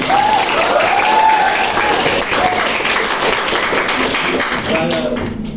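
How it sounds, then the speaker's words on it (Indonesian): A school class applauds, a dense, steady clapping from many hands that lasts the whole stretch, with voices calling out over it. "Kita kasih aplaus dulu buat Aijar."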